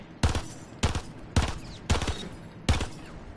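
Five loud, heavy sniper rifle shots from Dokkaebi's rifle in Rainbow Six Siege ring out one at a time at a steady pace, each a sharp blast with a short tail and quiet gaps between, with no talking.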